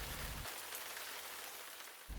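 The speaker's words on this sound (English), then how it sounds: "the watercolour sky cries and cries and cries against the glass" Rain hitting window glass, a soft, even hiss of drops on the pane that stays faint throughout, with a low rumble briefly fading out at the start and returning near the end.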